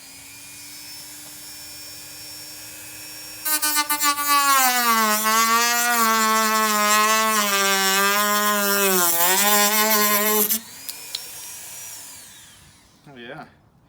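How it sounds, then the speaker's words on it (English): A Dremel rotary tool cuts into Lexus GX470 front bumper pieces, a loud high-pitched whine that starts abruptly, wavers in pitch as it bites into the material for about seven seconds, then stops, with the motor audible faintly before and after. "I think I should be able to cut a couple of the smaller pieces off with the Dremel"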